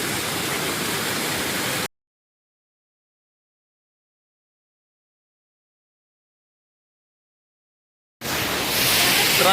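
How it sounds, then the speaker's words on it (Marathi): A loud, continuous rushing of water falling down a mountainside near Bhimashankar fills the start and end, a dense hiss-like roar with a long silent gap between. "हे असं डोंगरावरून पाणी वगैरे आलेलं मस्तपैकी पडताना बघितलं तर आवाजानंच तृप्त होते मन"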